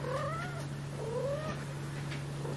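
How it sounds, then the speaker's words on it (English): A female cat meows indoors, two drawn-out rising-and-falling calls in quick succession, fairly faint over a steady electrical hum. "She meows all night long, sleeps all afternoon, and stays up all night."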